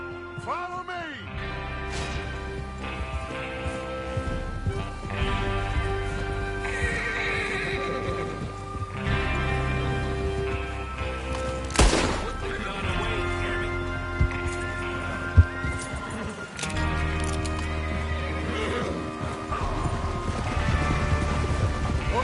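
Horses in Red Dead Redemption on PS5 neigh and whinny with clip-clop hoofbeats, set against a steady music score and game ambience, with sharp whinnies standing out near the middle.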